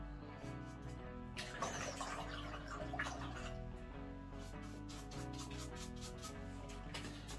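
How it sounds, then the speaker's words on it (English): A script liner paintbrush is swished and rubbed in a jar of odorless paint thinner while painting an oil seascape, giving a steady wet scrubbing and swishing that swells in the middle, close and alone over a low background hum. "I'm going to wash that brush."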